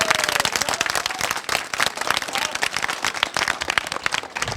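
Audience applause from a crowd at a village gathering in Haryana, dense sustained clapping at close range with some chatter mixed in.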